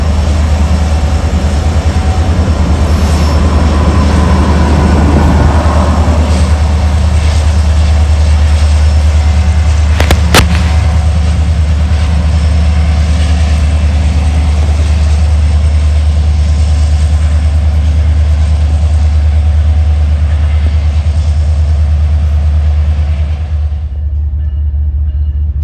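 CSX freight train locomotives passing in Richmond, a loud, continuous deep engine rumble with a steady drone that holds throughout and cuts off near the end.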